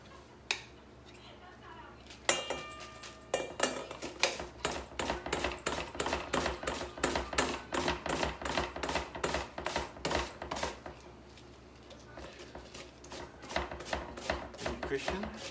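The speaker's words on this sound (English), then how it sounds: "So I'm going to use my mandolin." Cabbage shaved on a mandolin slicer gives a quick, steady train of crisp scraping strokes that runs close and loud for most of the clip, with a brief pause near the end and a short voice early on.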